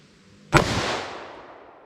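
A single sharp .357 Magnum gunshot firing Federal HammerDown ammunition on a ballistic test range near a chronograph, loud and close, with a long fading echo afterward.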